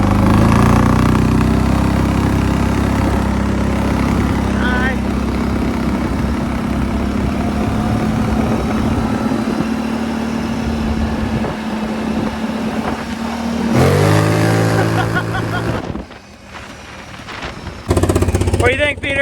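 A Kawasaki Brute Force 750 ATV idles loudly with the choke on while warming up, a rough, steady close-up engine drone that briefly rises and stutters near the end, with people talking over it.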